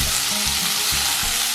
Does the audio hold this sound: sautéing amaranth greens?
yes